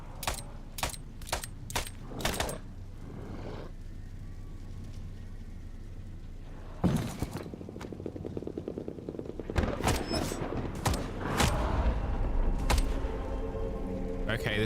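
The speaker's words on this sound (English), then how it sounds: "let's get them with the pistol" Pistol shots ring out in a video game, a rapid burst of sharp cracks at the start followed by more scattered, clustered shots later, with game sounds in between and talk likely underneath.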